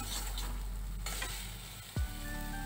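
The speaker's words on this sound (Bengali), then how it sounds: "হলুদের গুঁড়ো, মশলাগুলো হালকা করে কষিয়ে নিয়েছি" Turmeric powder and spices sauté in a pan with a soft, continuous sizzle and light stirring, fairly quiet, ending in a brief low thump and a faint tone.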